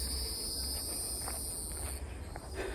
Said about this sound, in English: I'm hearing the sound of bugs.